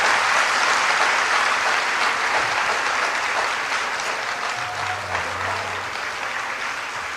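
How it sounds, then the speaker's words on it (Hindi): Audience clapping for a little girl at a spiritual gathering in London, a steady wash of many hands that stays loud throughout and thins slightly toward the end. "एक बार बच्ची को ताली बजा के धन्यवाद।"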